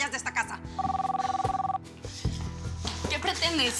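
A telephone bell rings in a short rapid burst beneath a telenovela scene, with people talking in Spanish before and after the ring.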